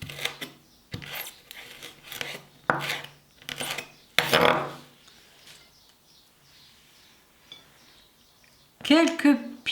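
A knife chops fresh basil, parsley and coriander on a board in quick bursts of rasping strokes, close and fairly loud, with a pause in the middle and a voice speaking between cuts.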